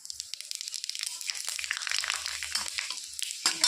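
Bay leaf, dried chilli and panch phoron dropped into hot oil, giving a close, busy sizzle full of sharp crackles and pops that grows livelier and ends with a few louder spits.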